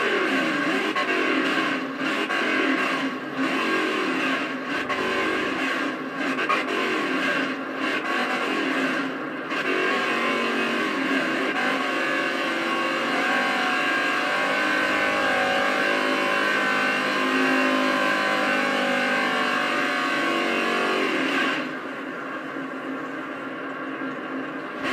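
Race car engine from an oval racing video game at Kansas on a victory lap after the final laps, a steady loud engine drone with shifting pitch running nearly the whole time, then cutting off near the end.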